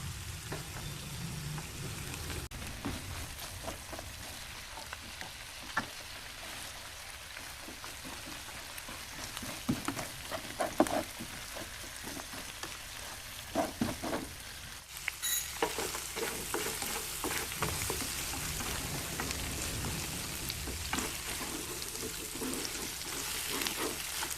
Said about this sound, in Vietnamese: chiên cái thịt cua